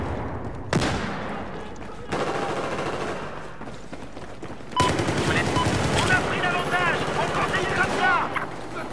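Rapid automatic gunfire from a weapon in the Battlefield 4 video game, loud bursts of shots with heavy reports, continuing in dense volleys.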